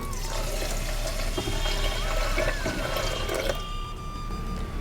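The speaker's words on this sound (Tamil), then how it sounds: "ரெண்டரை கப்பு தண்ணி சேர்க்குறேன்" Two and a half cups of water pour steadily into a pressure cooker, a continuous splashing gurgle that softens slightly toward the end.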